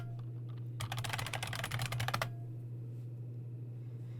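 A burst of rapid computer keyboard typing as a terminal command is entered on a Fedora Linux system, about a second and a half of quick, close key clicks over a steady low hum, with quiet before and after.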